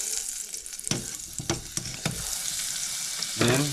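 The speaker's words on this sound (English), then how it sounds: "We're gonna drop it in and get that sizzling" Close, steady sizzling and crackling of butter in a hot pan, with a few louder pops and scrapes as it's moved around.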